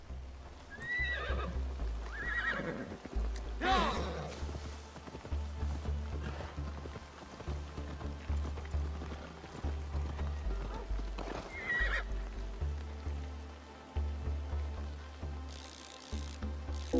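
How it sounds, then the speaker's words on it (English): A white unicorn horse in Assassin's Creed Valhalla gives repeated whinnies and snorts over a continuous clip-clop of hooves, close and fairly loud, with a game music bed running underneath throughout. "So unicorn, white horse with the horn, and we hit some rainbow effects"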